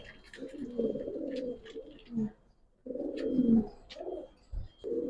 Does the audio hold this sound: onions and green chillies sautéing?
no